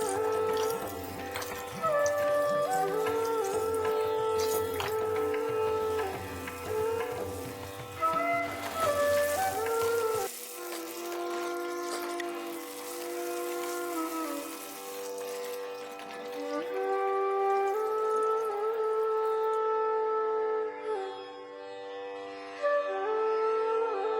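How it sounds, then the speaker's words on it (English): Sliced onions sizzle steadily in several tablespoons of hot mustard oil, a continuous hissing crackle with tonal background music playing over it throughout. "Heat 4 to 5 tablespoons of mustard oil, toss in the sliced onion, and fry till golden brown."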